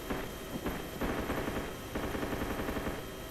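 Gunfire from the DayZ video game during a helicopter battle, bursts of rapid automatic shots in steady clusters, loud and close with continuous engine-like noise beneath.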